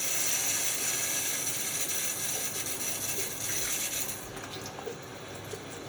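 A Gillette Silver Blue safety razor scraping across lathered stubble, a steady close, dry rasping rub that continues without a break, then becomes slightly softer and sparser near the end.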